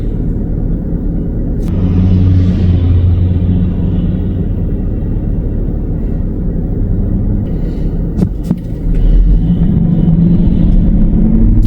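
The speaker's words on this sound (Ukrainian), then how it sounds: "там така інша машина все це в тирсу перетворює" A farm machine shreds cut plants into sawdust, making a loud, continuous rumbling drone with a brief dip partway through. No one speaks.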